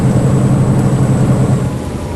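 Rain and thunder on a forest route in the Bus Simulator India game, with a lorry driving through: steady, dense rainfall and a low rumbling wash sounding loud and continuous throughout, with no voices.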